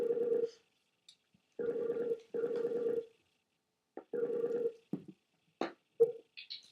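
A telephone rings in repeated electronic bursts with short pauses between them, followed by a few scattered higher chirps and tones.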